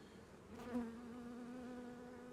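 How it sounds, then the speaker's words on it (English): Steady, close buzzing of many honey bees, a continuous droning hum with a brief louder swell as one passes near. "Bees are sitting nicely on those combs, it's good."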